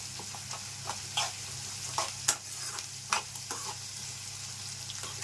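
Onions sauté in oil for an okra fry, a soft constant sizzle broken by a series of spatula scrapes and taps against the pan.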